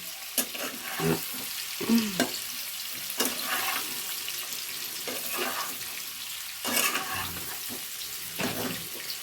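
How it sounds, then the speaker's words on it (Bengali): Potatoes frying in a pan for niramish alur dom, a soft continuous sizzle under repeated scraping and stirring strokes of a spatula, fairly quiet and close, with no voices. "দেখো আলুগুলো একটু ভাজা ভাজা হয়ে এসছে।"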